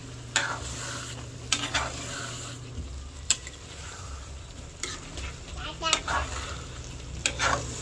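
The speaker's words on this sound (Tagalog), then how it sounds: "Ilalagay ko na rin po itong sili. At akin lang pong hahaluin." Chili being stirred into sinantol with shrimp in a pan: a steady sizzle of frying with repeated scraping and clacking stir strokes at close range, with no talking.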